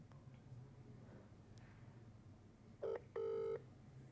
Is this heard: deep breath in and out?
no